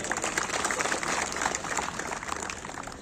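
A crowd applauds at a traditional kushti wrestling dangal in Machnur. Dense, steady clapping from many people fills the whole stretch at even loudness, with no clear talk on top.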